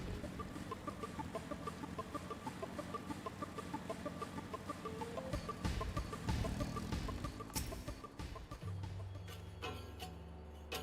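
Chocobo bird calls in Final Fantasy XIV, repeated clucking, warbling cries over steady ambient game sound, moderately loud and fairly regular, with a low droning tone entering near the end.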